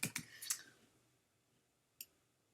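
A computer keyboard is struck in a quick burst of sharp clicks, then falls quiet before one last isolated keystroke, all close and fairly soft.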